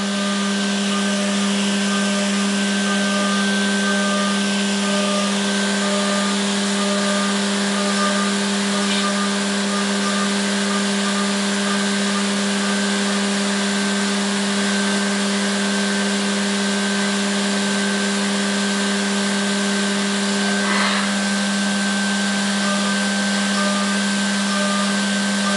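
A CNC machining center milling at 12,000 RPM and 150 inches per minute gives off a steady, loud, continuous whirring drone with a strong hum, holding nearly unchanged throughout.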